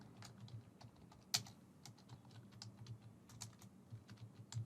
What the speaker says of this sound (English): I'm typing the subject as Trello card